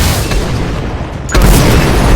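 Missile strike in the Shadow Strike drone combat game: loud, low rumbling noise gives way to a sudden deep boom about halfway through, then a sustained heavy roar.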